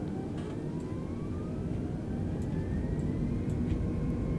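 Simulated aircraft engine at full throttle in Microsoft Flight Simulator, a continuous loud droning roar with a slowly rising tonal whine, steady throughout with no talking.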